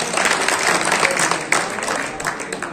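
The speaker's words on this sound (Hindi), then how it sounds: "आपसे चाहूंगा ताली तो बजाते रहें" Loud, dense applause fills a hall at a Samajwadi Party workers' meeting in Kiratpur, a continuous crowd of hands clapping close by, with murmuring voices mixed in.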